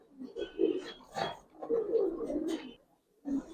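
Giribaz pigeons in a loft give low, burbling coos in a near-continuous run, rising and falling for about three seconds, then a brief pause before another coo.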